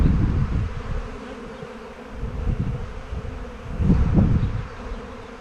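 Buckfast honeybees crowd a hive being expanded and rehoused, their steady buzzing humming close and loud with swelling waves as bees move near.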